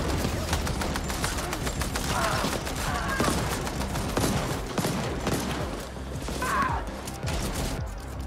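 Dense, continuous gunfire in a firefight in the shooter video game The Ascent, with overlapping shots forming a steady, loud barrage and brief mechanical clanks on top.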